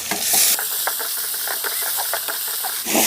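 Onions with ginger-garlic paste frying for mutton dum biryani give off a loud, hissing sizzle up close, with a quick rhythm of stirring scrapes running through it and no talking.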